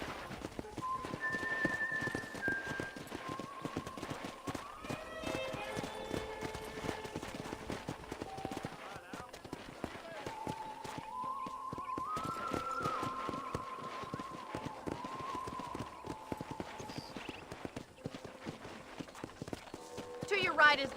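Rhythmic horse hoofbeats clip-clop steadily in the video game Red Dead Redemption 2 while people talk over them, with an occasional brief whinny-like tone.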